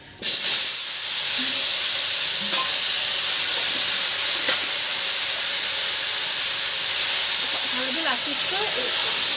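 Spiced potato and soybean curry, with onion, garlic, ginger, coriander, cumin and chilli powder, hits hot oil in a wok with a loud, steady hissing sizzle that holds from start to finish, broken by a few faint clinks.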